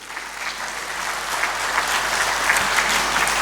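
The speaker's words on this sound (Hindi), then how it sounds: "ज़रा इन सब के लिए एक दफ़ा तालियां बजा दें आप यार" Audience applause at a live comedy benefit show: steady, dense clapping from a crowd, sustained and fairly even throughout.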